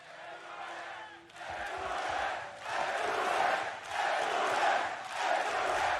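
An esports arena crowd at the VCT Masters Copenhagen 2022 Valorant grand final cheers for FPX against Paper Rex, chanting in loud rhythmic swells that rise and fall about once a second.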